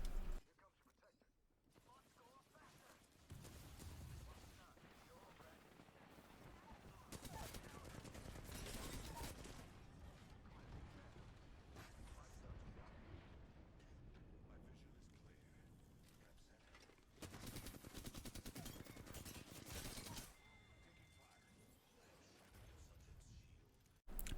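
Rapid automatic Flatline rifle fire in Apex Legends Season 13, long sustained bursts of gunshots with brief pauses between them, loud and continuous with a short break mid-way.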